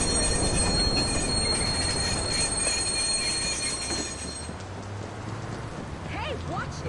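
A subway train in Watch Dogs pulls in with loud, sustained rail noise and squealing wheels. The roar eases toward the end, leaving a few sharp metallic chirps.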